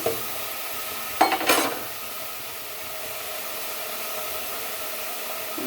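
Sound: stirring curry in a frying pan

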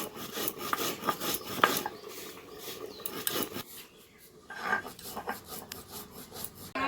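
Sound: grinding roasted cumin and cardamom into paste

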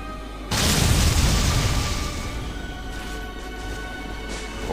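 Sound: bomb explosion destroying a wall, Metroid: Other M video game

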